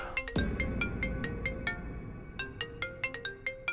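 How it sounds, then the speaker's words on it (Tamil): A phone's melodic ringtone plays for an incoming call, a bright repeating pattern of electronic notes in quick rhythmic bursts, clear and fairly close with no talk over it. "மோகன், துளசி மறுபடியும் ஃபோன் பண்றால, கொஞ்சம் சீக்கிரம் கிளம்பி போ"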